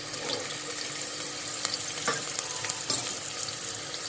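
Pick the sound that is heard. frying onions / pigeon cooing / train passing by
frying onions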